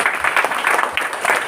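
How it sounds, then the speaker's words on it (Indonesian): Church congregation applauding during a Sunday worship service, a dense, continuous burst of clapping from many hands filling the short moment with no voices over it. "Bapak Saudara yang diberkati, boleh beri tepuk tangan."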